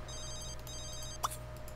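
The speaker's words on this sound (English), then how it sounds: "That phone of mine stays ringing." A telephone in The Sims 3 rings with a steady electronic trill, and a couple of short game chimes sound near the end.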